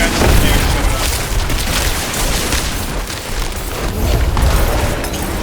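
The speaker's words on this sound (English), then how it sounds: "I heard the sound of corpse explosions." Corpse explosions in Diablo IV make a dense, continuous rumble of booming blasts and bursts, loud and sustained through the whole stretch of gameplay, with a voice speaking over it.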